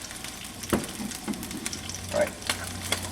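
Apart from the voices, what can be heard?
fish sizzling in hot pan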